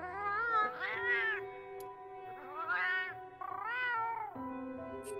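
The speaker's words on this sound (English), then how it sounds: "if you want to have them talk the meow language" Cat-like meowing chatter from the feline companions in Monster Hunter Wilds, three drawn-out, warbling meow phrases in close succession over a steady game background hum.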